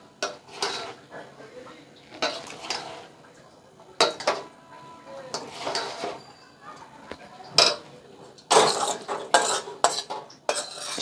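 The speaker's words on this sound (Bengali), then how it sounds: "দিয়ে আবারও মিশিয়ে নেব" Fried rice being tossed and mixed in a pan, with repeated scraping and clinking of a metal utensil against the pan in irregular bursts, close and moderately loud.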